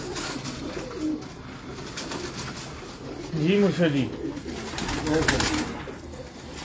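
Pigeons in a fancier's loft coo in low rolling bursts, two clear calls rising above a voice and steady chatter nearby.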